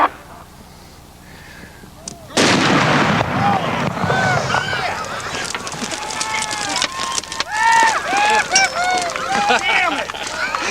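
A large Thunder King firework shell explodes: a sudden heavy boom bursts out and rolls into a long rumbling crackle, while people shout and chatter excitedly over it.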